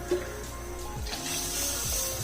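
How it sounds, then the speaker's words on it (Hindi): Water poured into a cooking pot for chicken yakhni pulao, a steady close splashing gush that runs continuously throughout. "टोटल मैं यहाँ पे 3 कप पानी डालने लगी।"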